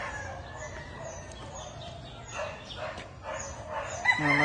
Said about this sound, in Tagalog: Mga manok ni Sir Don Ramon